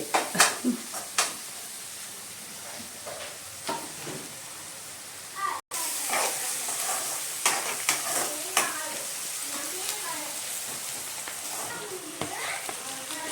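Chopped onions sizzle steadily in a hot pan for a prawn fry while a spoon scrapes and taps through them in repeated strokes, the frying hiss continuous underneath.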